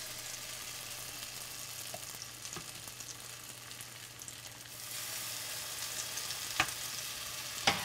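A batch of grated zucchini frying in oil, giving a steady, even crackling sizzle that grows slightly louder partway through, with a couple of sharp pops near the end.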